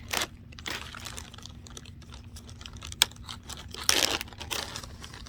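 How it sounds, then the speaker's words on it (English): Paper crinkles and crumples in short, scratchy bursts close by as it is stuffed into a bee smoker, with a low steady hum underneath. "We're gonna throw a little bit of paper in there."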